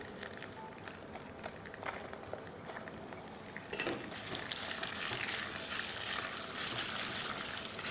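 Onion frying in a pan with cinnamon, cloves, ginger and garlic for a country chicken curry, a soft sizzle that swells into a louder, steady crackling hiss partway through.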